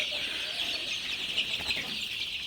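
Continuous high, dense peeping and chirping from many 16-day-old Sonali super hybrid chicks together, steady and fairly close, with no voices.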